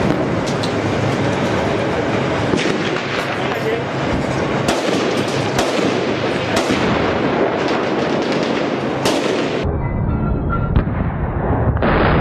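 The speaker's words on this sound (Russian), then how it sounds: "внезапно головной танк подрывается на кумулятивной мине." A lead tank blows up on a shaped-charge mine in combat in Syria, 2016. Loud, dense blasts and rumbling gunfire fill the scene, cutting off abruptly near the end, with voices heard amid the noise.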